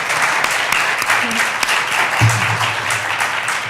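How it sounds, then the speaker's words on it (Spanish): Steady audience applause closes a lecture session honoring Roberto Bolaño. The clapping is dense and sustained for a few seconds, with no voices over it. "quisiera por favor pedirles un aplauso tanto para Isabel como para Melba."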